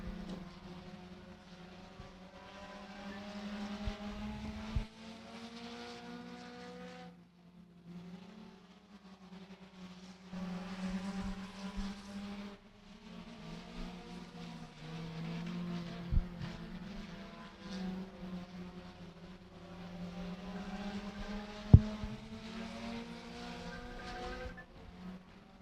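Race cars circling Beckley Motor Speedway during qualifying, engines droning and revving in long passes that rise and fall, with brief gaps between laps and a sharp click partway through.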